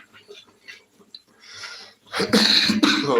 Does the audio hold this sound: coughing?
yes